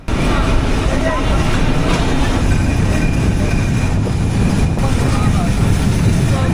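The Padma Express running through the night, a steady loud rumble and roar of wheels and carriages with a constant hiss, heard continuously from on board with no talk.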